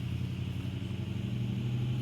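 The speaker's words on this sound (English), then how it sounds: "I'll wait until this truck passes" A truck passing on a road, a low steady engine rumble that fills the whole short stretch without fading, moderately loud with no talk over it.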